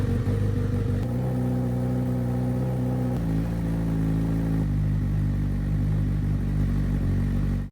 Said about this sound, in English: All right, new exhaust is on. Let's hear a cold start.